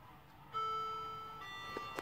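A second clock in the same room sounds a clear electronic chime, a sustained bright tone that steps to a new pitch partway through, soft and alone with no talking.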